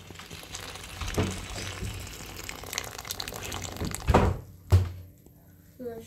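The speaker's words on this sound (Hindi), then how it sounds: "देखिए अब हम ये सारा पानी कॉटन के कपड़े में छान लेंगे." Water is strained through a cotton cloth into a bowl while making rasmalai, giving a hissing, splashy pour broken by a couple of dull thunks near the end.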